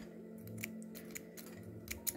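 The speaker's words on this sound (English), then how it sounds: "now we can just take our scissors and we can cut our blue" Scissors cut blue yarn while crocheting a pencil case, giving a few quiet, close snips spaced irregularly over soft background hum.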